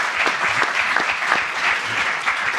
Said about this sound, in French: Allez, applaudissez Damien.